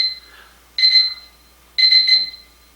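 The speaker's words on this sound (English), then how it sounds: "That was my timer." A timer alarm sounds in two loud bursts of rapid electronic beeping about a second apart, with quiet gaps in between and no talk.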